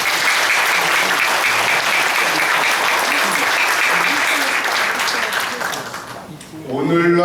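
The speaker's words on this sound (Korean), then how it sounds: "뜨겁게 박수 한번 하시죠." A church congregation claps warmly for a group of elderly singers after a hymn, the dense applause sustained and loud before tapering off, with a voice starting to speak near the end.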